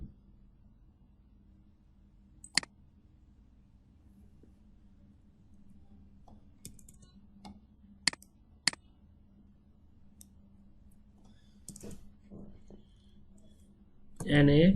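Scattered sharp clicks on a computer keyboard, sparse and spaced apart with quiet room tone between them, as a word is typed into photo editing software; a voice starts at the very end.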